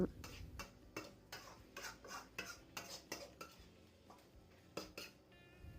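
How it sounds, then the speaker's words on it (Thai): A spatula scrapes and clinks rhythmically against a pan while stir-frying Thai khua kling chicken curry with its paste. The strokes are regular and close, over a faint sizzle, with no speech. "ผัดส่วนผสมทุกอย่างให้เข้ากันอีกครั้ง"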